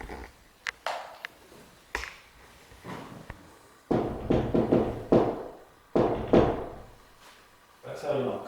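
Knocks on a door inside an old cottage: several sharp, separate raps spaced over a few seconds, with people talking quietly between them.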